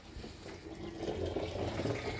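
Water gushes steadily from an irrigation pipe, a continuous rushing and splashing flow, fairly close and building slightly in strength.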